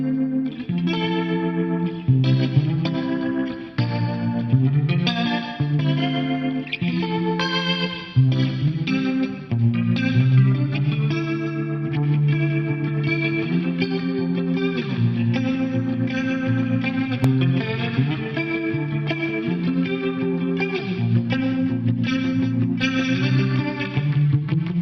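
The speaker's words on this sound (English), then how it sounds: "this is a Leslie style preset" A solid state clean guitar from an ADA preamp, run through a Leslie-style rotary speaker preset on an Alesis Quadraverb, plays a continuous melodic passage with a swirling, warbling chorus-like shimmer and reverb, steady and close.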